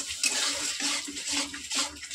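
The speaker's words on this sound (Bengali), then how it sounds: "এবার একটু সামান্য জল দিয়ে দেবো" Water poured into masala cooking in a pan for an egg dish, a steady close splashing and hiss running the whole short stretch with slight swells, no voices.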